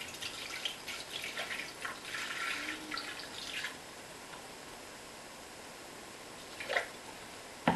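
Water is poured for a lollipop cake topping made in a Thermomix, a soft splashing trickle that runs for a few seconds, then fades to quiet room hiss with a brief clatter near the end.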